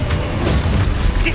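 A Confringo fire-blast spell in Hogwarts Legacy, a brief loud booming crash with a rumbling, crackling tail, heard up close with no break in the noise.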